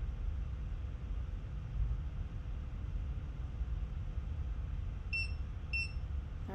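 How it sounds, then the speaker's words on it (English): Two short electronic beeps from a Presidium Gem Tester II during calibration, sounding in quick succession over a faint steady background hiss. "All right, we've had the two beeps."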